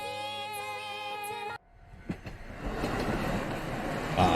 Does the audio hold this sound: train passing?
yes